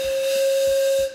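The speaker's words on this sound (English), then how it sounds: "Always blow the whistle before you leave in the steam boat." A steam boat's whistle gives one loud, steady blast with a hissing edge, then cuts off; a few low thumps sit faintly beneath it.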